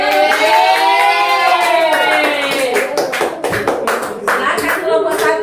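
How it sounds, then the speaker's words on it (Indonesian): Students in a classroom break into clapping partway through, a brisk burst of many hands following an opening stretch of voices, with chatter continuing over the applause. "Beri tepuk tangan."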